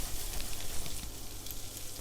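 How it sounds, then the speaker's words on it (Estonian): Shrimp with garlic and chili fry over high heat in a pan, a dense, steady sizzle that crackles throughout at close range, with no talking. "Krevetidega läheb siis hästi kiiresti, et me praeme neid sellisel tugeval kuumusel umbes minuti aega."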